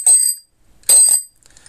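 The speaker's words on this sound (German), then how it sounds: "eine wunderschöne Fahrradklingel mit Bocholt-Schriftzug" Bicycle bell bearing Bocholt lettering rung twice close up, two bright metallic rings with a short pause between them, each fading out cleanly, no voices.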